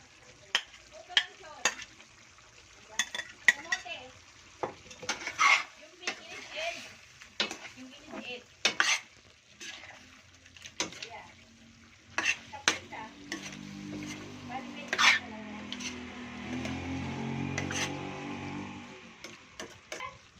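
Potatoes and carrots frying in a pan for chicken curry, with sharp scraping and clanking stirs at first, then a rising sizzle as the vegetables hit hot oil, all close and without talk.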